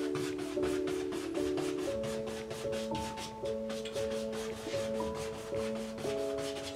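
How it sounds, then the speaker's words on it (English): A paintbrush scrubs short crisscross strokes across canvas in a quick rhythmic series of dry rubbing swishes, close and fairly quiet, with faint tonal music playing underneath. "going to do little tiny crisscross strokes, then I'm going to come underneath, crisscross strokes"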